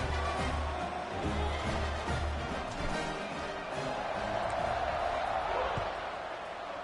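Stadium crowd roar in the College Football 26 video game, a steady loud wash of cheering with occasional thumps, under commentary speech throughout.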